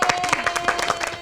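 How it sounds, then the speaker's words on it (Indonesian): Brief burst of clapping from a small studio audience, applauding both teams at the end of a campus cooking-competition game show; the clapping is moderately loud and close, with a cheer mixed in. "berikan tepuk tangan buat kedua tim"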